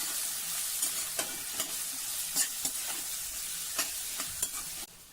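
Sliced ivy gourd and curry leaves sizzle in oil in a wide, heavy-bottomed kadhai, with a constant fry hiss broken by repeated sharp scraping strokes of a spatula, close and steady with no talk.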